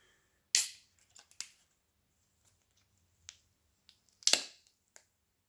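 A bottle of Jet Red IIIPA beer is opened with a few sharp clicks and snaps of the cap and metal, scattered and close in a quiet room, with no talking.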